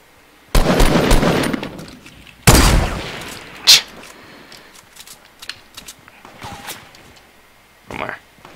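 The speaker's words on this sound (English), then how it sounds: "Right as I'm shooting." Loud bursts of automatic gunfire from the Fortnite battle royale game, two long rattling volleys followed by sharp single shots and scattered distant pops, with players talking over the action.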